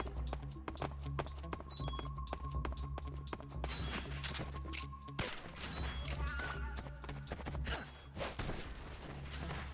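Gunfire in Metal Gear Solid 3, a rapid string of sharp cracking shots with a few heavier bursts, loud and close, with someone talking over parts of it.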